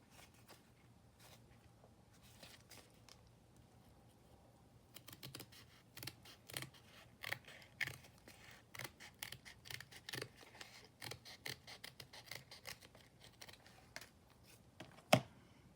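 Paper being cut with scissors for a junk journal, a quiet run of small snips and rustles, sparse at first and then quicker and closer together.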